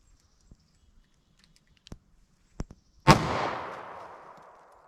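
A single sharp .40 Smith & Wesson pistol shot from a short barrel bursts out loud and close, its echo decaying over about a second and a half, after a few faint clicks and taps.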